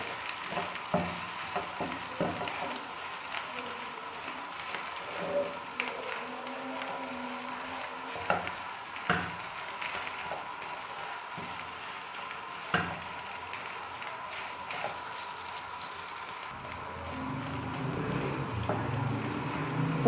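Spiced potato stuffing with turmeric, whole red chilli and garam masala frying in a pan, a soft steady sizzle broken by scraping stirs, close and fairly quiet with no talking.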